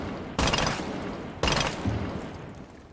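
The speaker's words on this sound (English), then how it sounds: "And this is me bursting the guns 4 times." Two sharp, loud bursts of SMG11 submachine gun fire in Rainbow Six Siege, each a rapid clattering volley followed by a lingering ringing tail, heard alone without voices.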